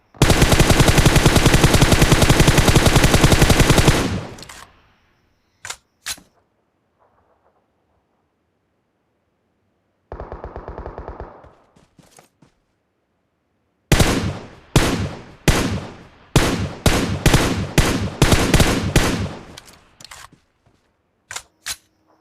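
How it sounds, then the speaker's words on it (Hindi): A sustained burst of automatic gunfire in PUBG Mobile, then scattered single shots, another short burst, and a rapid series of loud shots with brief gaps between them. "तभी मुझे यहाँ पे एक और गोली चलने की आवाज़ आती है मेरे राइट की तरफ।"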